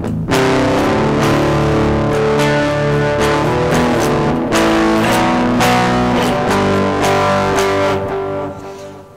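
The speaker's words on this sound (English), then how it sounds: "If you want to turn it up you can, and it becomes heavier I guess, but it's not really a metal distortion tone." Electric guitar played through a Klon-clone overdrive pedal with the gain turned up, giving a heavier rock crunch of sustained chords and picked notes, loud and continuous with no talking.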